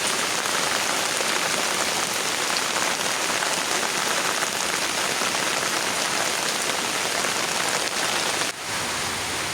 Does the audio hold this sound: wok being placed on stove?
no